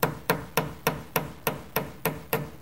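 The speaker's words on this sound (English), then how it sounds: "using a little hammer on the side" A small hammer taps silver bezel prongs over on a reticulated silver bolo tie, giving eight crisp, evenly spaced metallic strikes in a quick steady rhythm, close and clear with no other sound.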